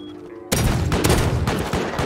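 A double-barrel shotgun fires in the video game Rust: after a quiet moment, a sudden loud burst of close gunfire breaks out and keeps booming, with another hard shot near the end.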